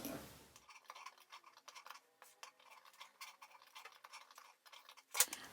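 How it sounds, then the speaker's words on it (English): Sewing scissors make a series of tiny, quiet snips into a fabric seam allowance while clipping a curve, with small irregular clicks close by and a brief louder knock near the end. "doing a tiny little snip into the seam allowance"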